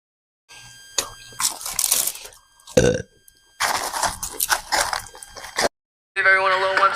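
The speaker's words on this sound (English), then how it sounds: "How do you burp, bro?" A child burping indoors: several loud bursts separated by short pauses, including a long rasping belch and a final drawn-out tonal one, with boys talking and laughing between them.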